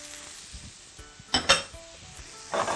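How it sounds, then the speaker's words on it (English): Peas tipped into a pan of translucent onions, a couple of loud clattering rattles as they land, then a faint sizzle and a final scrape of a spoon stirring. "we'll proceed to add our peas"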